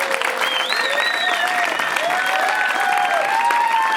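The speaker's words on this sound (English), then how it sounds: "the organisers deserve a huge round of applause for all they've done" Crowd applause at a cross duathlon race venue, a dense continuous patter of clapping with cheering and whistle-like tones over it, steady and loud throughout.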